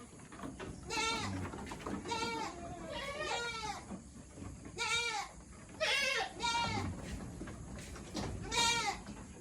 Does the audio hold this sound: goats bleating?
yes